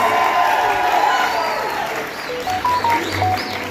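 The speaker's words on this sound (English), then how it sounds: "Let's give him a round of applause." An audience at a medical university graduation ceremony in Tbilisi applauds in a steady wash of clapping mixed with crowd murmur and some cheering, while tonal sounds rise and fall over it.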